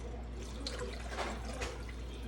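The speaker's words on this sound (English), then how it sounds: "pour in our chicken broth and white wine" Chicken broth pours into a cooking pot as a soft, continuous liquid splash and gurgle, faint and close, with no talking.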